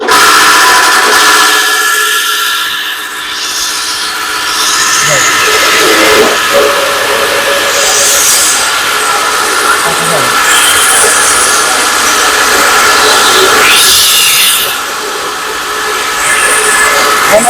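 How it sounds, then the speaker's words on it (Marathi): A chaff cutter feeds through and chops a coconut branch, giving a steady, loud mechanical grinding and rasping that runs for the whole stretch, with people talking over it. "ह्या मशीनची ताकद तुम्हाला ह्याच्यावरून जाणवेल की कळेल की बाबा नारळाच्या फांद्या सुद्धा कट करते"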